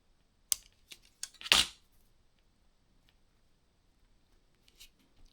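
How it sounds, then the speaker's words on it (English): Scissors snip fishing line while tying a barbel rig for river fishing, giving a few sharp, close clicks in quick succession and then a final louder cut, with no voices. "Cut it short."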